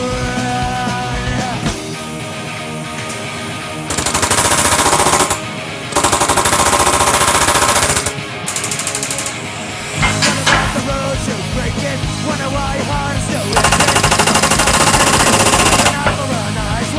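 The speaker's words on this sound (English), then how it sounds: "the riveting with the power hammer" Loud, rapid mechanical hammering as a power hammer sets rivets in a custom bomber seat, in repeated bursts of a few seconds each, a harsh metallic rattle between steadier machine hum.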